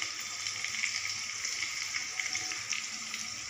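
Vegetables frying in a pan with salt, turmeric, green chili, mustard paste and spices for Bengali shukto, a steady soft sizzle and crackle with no pauses.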